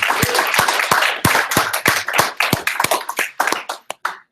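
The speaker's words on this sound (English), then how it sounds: "1 round of applause for Dennis." Audience applause for a presenter at a meetup, a sparse scattering of individual hand claps with irregular rhythm, fairly close, thinning out toward the end.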